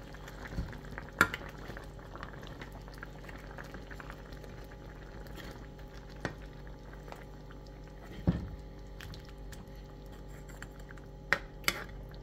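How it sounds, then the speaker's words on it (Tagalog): A pot of pork-feet adobo simmering in ginger ale with cheese, a soft steady bubbling broken by a few sharp clinks and scrapes of a spoon as it is stirred, close and fairly quiet with no talking. "haluin natin."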